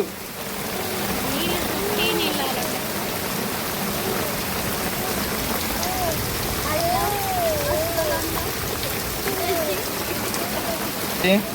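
Steady rain pours onto a thatched hut in a hailstorm, a continuous broadband hiss throughout, with a voice rising and falling briefly over the downpour partway through.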